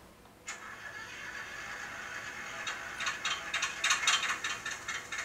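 A small mechanical whir spins up, then builds into a rapid, buzzy ratcheting rattle that grows louder and more uneven, close by with no talk: an N-scale model Whitcomb 65-T diesel locomotive's motors starting up.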